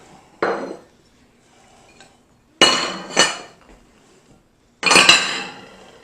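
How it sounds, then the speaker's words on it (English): Ingredients for a keto spinach artichoke dip being tipped into a bowl and mixed, with three separate bursts of clinking and scraping of a utensil against the bowl, loud and close, separated by near silence. "We just simply dump everything in and mix it together."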